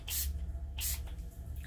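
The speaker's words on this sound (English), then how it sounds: "I'm gonna spray my brush a little bit" Two short bursts of spray hit a makeup brush, each a quick, close hiss from a spray bottle, separated by a brief pause.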